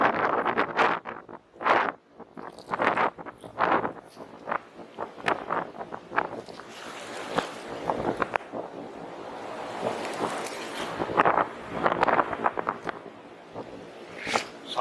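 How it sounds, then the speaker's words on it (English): Strong wind buffets the microphone in rough gusts on a beach at Half Moon Bay, with a broad roar like surf behind it and scattered rustling and handling noises. "Still windy as hell out here."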